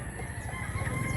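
Chickens and roosters at a Mantalungon, Cebu poultry market, clucking steadily close by with low, dense fowl chatter and no clear crow.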